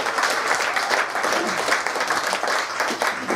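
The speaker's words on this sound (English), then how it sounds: "Round of applause." Dense clapping from a theatre audience at a Broadway-style show rolls on steadily throughout, loud and close, with no voices standing out.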